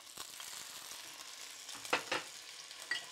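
Green lentils warm in a pan, giving a faint, soft sizzle with a few quiet scraping stirs of a small spoon, close by and with no talking.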